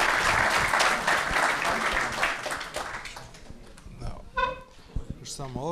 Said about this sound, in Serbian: Molim jedan aplauz za hrabrost.